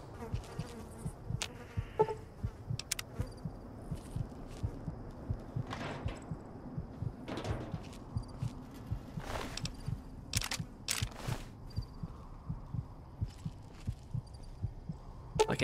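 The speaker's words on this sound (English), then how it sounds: "I can hear my heartbeat now." A dull, regular thumping heartbeat from the Fallout: New Vegas video game pulses steadily throughout, low and soft, with faint clicks and buzzy game sounds layered over it.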